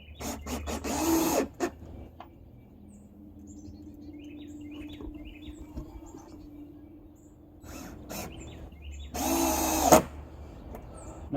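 Power drill driving screws into painted back deck boards of pressure-treated lumber, two close whirring bursts at the start and end with quieter stretches and faint bird calls between.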